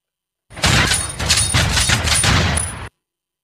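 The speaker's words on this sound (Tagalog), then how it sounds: "Putok ng shotgun." Loud built-in shotgun sound effect from a V8 sound card: a burst of several rapid, sharp blasts running continuously for about two and a half seconds, with no talking.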